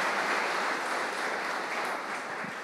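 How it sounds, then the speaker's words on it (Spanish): Church congregation applauding, steady dense clapping from many hands filling the room, loud and continuous throughout. "Dale un aplauso al Señor"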